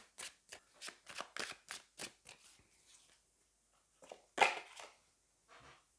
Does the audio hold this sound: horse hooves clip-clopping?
no